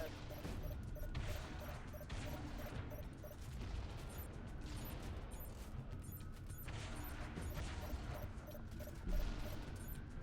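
Rockets are fired at a Phantom dropship in the Halo video game, amid a steady wash of battle gunfire, mechanical clatter and a few heavier bursts, with a louder thump near the end and faint voices in the mix.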